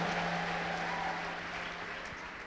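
A church congregation applauds, a soft, distant wash of many hands clapping that slowly fades, with no voices standing out.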